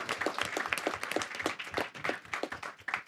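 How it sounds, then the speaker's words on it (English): Conference audience applauding all of the speakers, brisk rhythmic clapping from many hands in a hall, steady and fairly close throughout. "please give it another, hand of applause for just all of the speakers."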